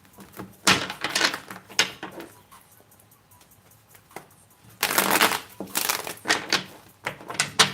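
Tarot cards are shuffled close up in crisp, papery bursts. One flurry of riffles comes early, then a quiet pause, then a second busier run of quick shuffling.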